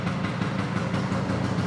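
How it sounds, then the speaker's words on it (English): A 1979 Vespa P200E scooter engine idles close by after a brief choke in a cool room, giving a steady, even low mechanical rumble with no talking. "and there you go, it's idling."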